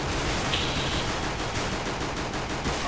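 Automatic weapon fire in the video game CS:GO, a dense continuous barrage of rapid shots that stays loud and steady for the whole stretch, with no voices over it.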